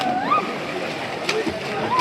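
People jump into a historic pond in Kuttichira, Kozhikode, making short splashes and sloshing water over a steady background, with talk in the clip.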